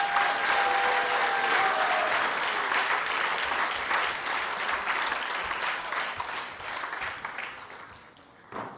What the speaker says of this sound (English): Give big applause for the new initiates again